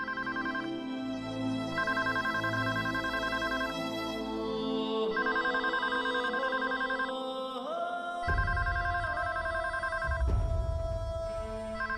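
A telephone keeps ringing unanswered with a melodic electronic ringtone that repeats its looping tune for several seconds, loud and alone, with a few lower tones near the end.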